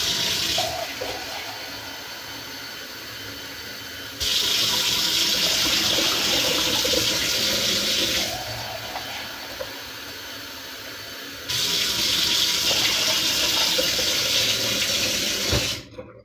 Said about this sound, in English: Why don't I add more water into this and cook the peas?